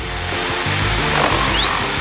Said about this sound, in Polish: mam wiertarkę